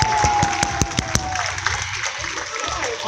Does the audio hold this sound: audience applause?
yes